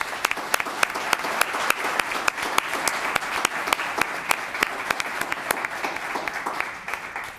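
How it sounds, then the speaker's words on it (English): An audience at a Los Gatos town council meeting applauds a young woman, a steady patter of clapping punctuated by sharp, distinct nearby claps at a brisk rhythm. "let's give this astounding young woman a round of applause"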